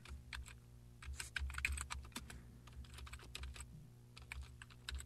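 Fast, steady typing on a computer keyboard while coding a Flash game in ActionScript 3.0, with dense clicky keystrokes over a low electrical hum and no speech.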